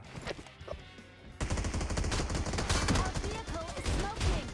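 Rapid automatic gunfire in the PUBG Mobile video game, sounding as dense, loud repeated bursts that start abruptly and run continuously, with faint talk beneath.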